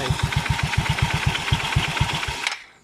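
Yamaha Nouvo scooter engine running at a fast, steady idle with a slight rev, its rapid regular pulses chugging close and loud before cutting off near the end.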